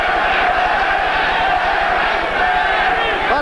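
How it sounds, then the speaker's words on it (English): A boxing crowd at Caesars Palace roars in support of Trevor Berbick during his 1981 fight with Larry Holmes, a dense continuous wall of cheering and shouting, loud and unbroken, with rhythmic chanting pulses beneath it. "And the crowd now starts to rally to the support of Berbick."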